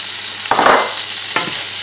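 Salmon is stirred into a risotto in a pan over medium heat. Two distinct scraping strokes of the spoon sound close by over a constant, even hiss of cooking.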